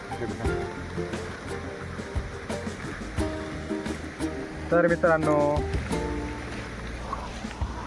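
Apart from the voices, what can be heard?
river water flowing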